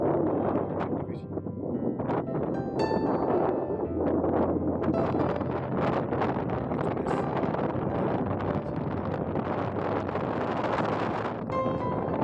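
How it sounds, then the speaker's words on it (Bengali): Strong, steady wind buffeting the microphone beside a river in the Sundarbans near Satjelia village, a continuous loud roar with faint bird calls and scattered knocks over the top. "এখানে হাওয়াটা একটু বেশি"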